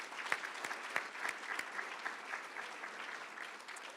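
An audience at a regional workforce event in Cedar Valley gives a round of applause for students, a soft, distant, even patter of many hands with a few sharper claps standing out.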